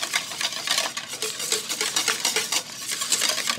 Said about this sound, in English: Do like a third of this, whisk the hell out of it so it doesn't have time to turn into scrambled eggs.